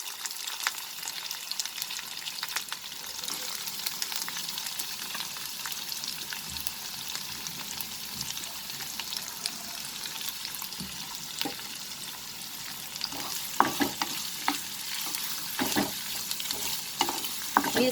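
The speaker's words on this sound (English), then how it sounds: "along with the curry patta, I'm going to add the sliced onions" Sliced onions and curry leaves frying in oil for prawn masala, a steady close sizzle with scattered stirring clatter and crackle throughout, no talk.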